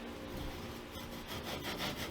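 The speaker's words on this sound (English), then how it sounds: "next part is cutting this off, and if you put your saw up like this, you'll get the 90 degree" Close hand saw strokes cutting through a wooden guitar neck blank, a steady rasping back-and-forth rhythm with no talking.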